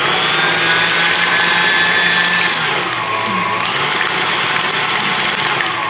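An electric mixer at medium speed beats doughnut batter with sour cream added. It gives a loud, continuous motor whine that holds steady for several seconds, with no voices.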